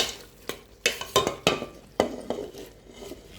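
Onion and spring onion go into a hot pan for a Cameroonian cornchaff dish, giving a series of sharp clinks and scraping stirs with a soft sizzle underneath, fairly close and with no talking.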